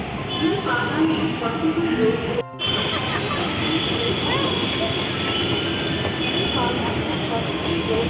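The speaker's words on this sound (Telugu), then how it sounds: "మొత్తానికైతే మెట్రో స్టేషన్కి వచ్చినాం" Steady rumble of a metro train in a station, with crowd chatter and people talking throughout.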